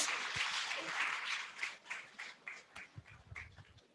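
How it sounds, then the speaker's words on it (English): Conference audience applauding after a message read on behalf of the Lagos State government secretary: dense, bright clapping that thins out into scattered individual claps toward the end. "Please let the applause be louder"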